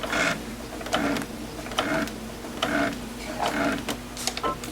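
A sewing machine sews a back stitch, giving a quiet run of rhythmic mechanical bursts about every half second, close by and without talk.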